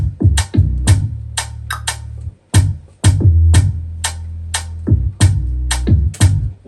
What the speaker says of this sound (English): Then the bass and the drum bounce